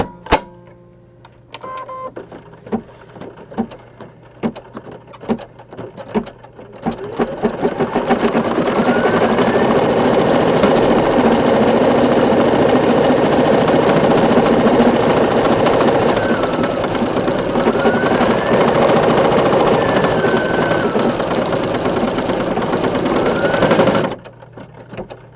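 An embroidery machine stitches a shadow under a lip in medium gray thread, starting with a few clicks and then settling into a loud, steady, rapid mechanical whirring that runs for nearly twenty seconds before stopping abruptly.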